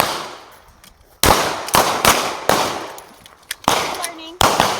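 Sharp gunshots crack at a shooting training session, roughly six loud reports spaced about half a second to a second apart, each with a short echoing decay, at close range with no talk over them.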